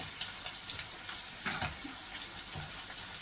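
Chicken 65 deep-fries in hot oil with curry leaves, giving a continuous bright, hissing sizzle with scattered small pops and no talking.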